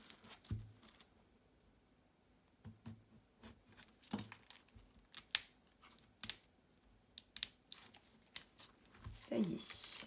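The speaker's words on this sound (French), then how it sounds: "une paire de ciseaux" A pair of scissors snips repeatedly through packaging in irregular, close crisp cuts, with rustling and crinkling between them and occasional pauses.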